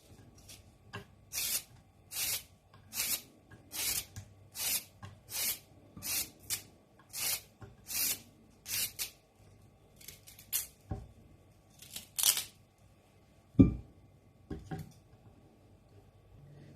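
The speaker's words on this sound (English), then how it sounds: "what you are going to be doing is just to peel off your carrot" Large carrots peeled by hand: a steady series of crisp scraping strokes, close and fairly even, about one every second. A few duller knocks follow near the end, with no talking.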